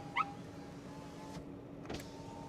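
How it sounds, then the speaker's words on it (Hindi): Power windows on a used German car being run one at a time from the driver's master switch, a brief faint whir with a couple of soft clicks and thumps in a quiet cabin, no talking. "अब मैं पावर विंडो चेक करूंगा 1 by 1 all 4 Windows through my master control"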